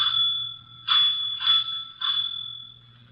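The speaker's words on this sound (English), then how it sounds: "you had better ring the doorbell" A doorbell in an old-time Nero Wolfe radio mystery rings in three quick bright chimes, each a pair of sustained ringing tones, with a faint low hum underneath and no talking.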